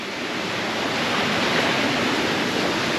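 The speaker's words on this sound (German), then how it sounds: "kleiner Ruhebereich mit Wasserfall" A waterfall in a small adult relaxation area beside a campsite pool rushes in a steady, loud, broadband roar, dense and continuous throughout without pauses or other clear sounds on top.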